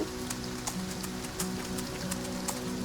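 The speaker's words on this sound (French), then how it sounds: "il pleut" Steady rain patters across the ground in the farming video game Farm Together, a dense even hiss with small drop ticks, heard alone at moderate level with a faint hum beneath.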